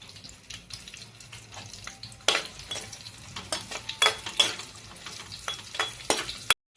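Peanuts fry in hot oil with green chillies and cumin in a steady close crackling sizzle, broken by repeated scraping stirs and sharper spatters before cutting off abruptly.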